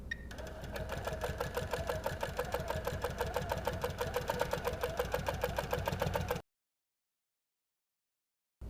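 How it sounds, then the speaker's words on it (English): A sewing machine runs steadily for about six seconds, stitching a rough-edge appliqué onto fabric for a fall wall hanging with a close, even mechanical whir and rapid needle ticking, then stops abruptly into silence. "now I'm just gonna rough edge applique the inside edge"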